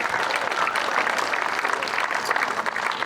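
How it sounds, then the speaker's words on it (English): Steady, dense audience applause greeting the announced Hall of Fame finalists, a continuous wash of clapping at moderate loudness with no talk over it. "So a round of applause for those individuals."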